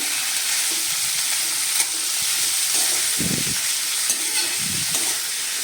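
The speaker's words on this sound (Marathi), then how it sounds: "तर आपण आता हे पण चांगलं तेलामध्ये मिक्स करून घेऊया।" Chickpeas, soaked peanuts, carrot and beans stirred in hot oil for a Maharashtrian mixed vegetable dish, a loud constant sizzle with scraping spoon strokes through it.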